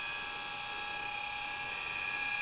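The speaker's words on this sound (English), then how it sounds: "You can hear the motor working a little bit harder, but it's pulling that 5-pound up weight, no problem." Small motor driving a 3D printed plastic timing pulley while lifting a 5-pound weight, giving a steady high-pitched whine with a faint buzz, continuous and even until it cuts off at the end.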